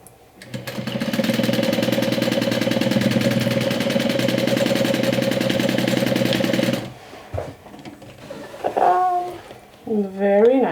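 A sewing machine stitches a swim tote bag in one continuous, loud, rapid mechanical run lasting about six seconds before stopping, followed by someone talking briefly.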